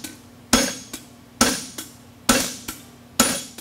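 A blacksmith strikes a flatter on hot steel while forging a hind draft bevel shoe at a world championship, four sharp, evenly spaced ringing hammer blows with quick decays, close and loud.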